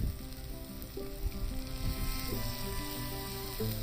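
Mutton keema masala frying in a pan, a continuous close sizzle with light stirring throughout, no talk over it.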